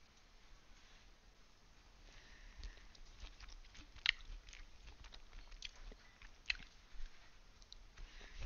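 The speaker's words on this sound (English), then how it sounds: "I'm eating a lot of sushi." Sushi, shrimp among it, being chewed at a sushi restaurant, with soft close mouth sounds, faint clicks and a couple of sharper bites over a low room hum, no talking.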